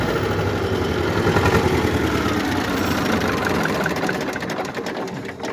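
A T-25 tractor's engine runs on its first start, a loud close mechanical rattle and steady drone that settles slightly toward the end, with no talk over it.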